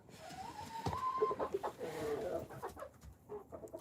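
Backyard homestead chickens cluck and murmur in short calls over a couple of seconds, fairly close, with a brief higher squawk near the middle.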